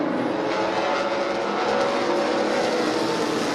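Race cars in the Rolex 24 at Daytona endurance race roar past in a steady, loud stream of engine noise through traffic, a continuous broadband rush with no gaps and no talking.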